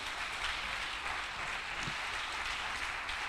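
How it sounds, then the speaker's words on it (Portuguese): A church congregation applauds together, a steady dense wash of clapping filling the space at moderate volume with no voices over it. "Você pode dar um aplauso a Jesus por isso?"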